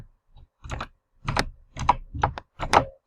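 Keys on a computer keyboard are struck while entering an Excel formula, about five short clusters of crisp clicks, close and distinct, with quiet gaps between them.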